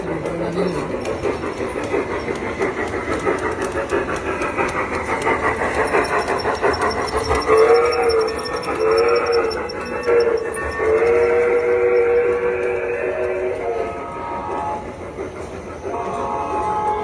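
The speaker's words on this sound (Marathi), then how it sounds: "आता आपली ट्रेन येते इथून" A miniature food-delivery train at a railway-themed restaurant rolls in with a continuous rumbling clatter, its whistle sounding in several repeated tooting bursts midway, loud and close.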